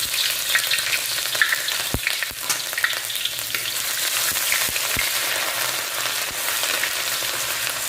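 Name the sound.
ginger garlic paste frying in hot oil in a karahi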